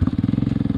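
A motorcycle engine thumps along in a fast, even pulse, close and loud, on an offroad outing with a heavily modified 'keuyeup' crab-style motorcycle.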